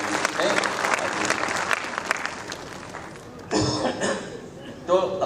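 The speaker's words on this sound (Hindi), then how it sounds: "जहां आपको अच्छा लगा आपने ताली वाली बजाई" An audience at a Hindi poetry recital honoring Atal ji claps through a long burst that fades, then breaks into fresh rounds of applause near the end, with some voices mixed in.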